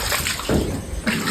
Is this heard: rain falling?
yes